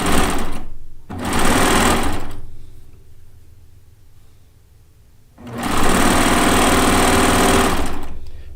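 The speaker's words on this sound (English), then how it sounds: "this is called a cover stitch machine, but it is in the serger family" A cover stitch machine, a serger-family machine with needles and loopers, stitches a Log Cabin quilt top in loud, steady whirring runs: two short bursts, a quiet pause, then a longer sustained run.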